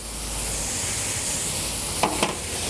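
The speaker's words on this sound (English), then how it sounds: "I'm going to take my fire hose nozzle and rinse my brushes a little bit" Water sprays steadily from a fire hose nozzle to wet and rinse detailing brushes during BMW M3 engine bay cleaning, a continuous close hiss with two brief bursts near the end.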